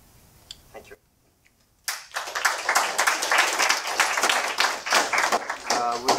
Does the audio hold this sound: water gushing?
no